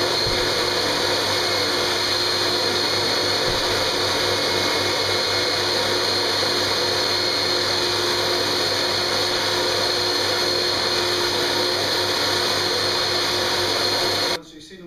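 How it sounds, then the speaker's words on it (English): A steady, loud mechanical roar of a hot water extraction carpet cleaning unit flushing a commercial carpet runs continuously, with a broad whooshing hiss, cutting off abruptly at the end. "we're just going to flush all the dirt out now with our hot water extraction unit"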